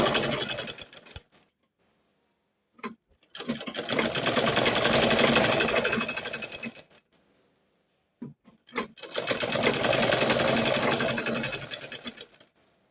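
Two long runs of sewing machine stitching on a salwar hem, each a steady whirring burst of several seconds, with short start-stop spurts and silent pauses between them, heard up close.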